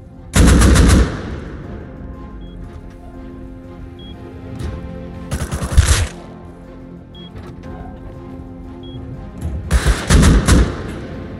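An automated turret in the console edition of the Rust survival game opens fire in three loud, rapid bursts of gunfire, each about a second long, separated by quieter stretches of game ambience.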